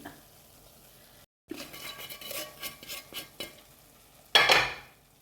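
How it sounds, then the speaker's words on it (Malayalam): Masala fries in a pan and is stirred with a utensil, giving a soft sizzle with scraping strokes and light clinks, ending in a louder burst of sizzling, close and moderately quiet. "മസാലയ്ക്ക് ഇങ്ങനെ നന്നായിട്ട് ഫ്രൈ ആയിട്ടുണ്ട്"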